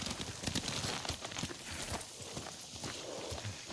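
Horses walk and trot in the video game Ghost of Tsushima, a steady run of hoof clip-clops on the ground with faint ambient sound behind them.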